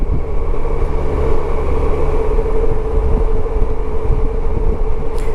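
Honda SilverWing 600 maxi scooter engine droning steadily while riding, a loud continuous low rumble with road and wind noise running unbroken throughout, no talk.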